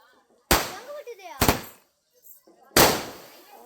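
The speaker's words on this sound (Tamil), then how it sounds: "கலர் கலராக வெடிக்குது" Three loud, sharp firecracker bursts at a village Vinayagar temple festival for Chithra Pournami, each with a crackling tail, spaced about a second apart, with voices faintly between them.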